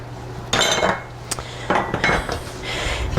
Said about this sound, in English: give it a little bit of a whisk